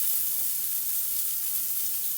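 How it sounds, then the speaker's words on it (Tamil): Cumin seeds sizzle steadily in hot oil, a loud, continuous crackling hiss with no voices. "ஜீரகம் பொரிஞ்சிருக்கு"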